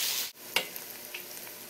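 Spices and sauce stir-frying in a hot pan for stuffed peppers, giving a steady close sizzle with a sharp break and a couple of utensil clicks against the pan.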